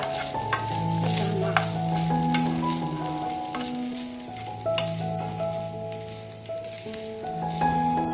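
Boiled chicken and potato frying in a pan while being stirred, a steady sizzle with spoon scrapes throughout, close, with a sustained musical tone in the background.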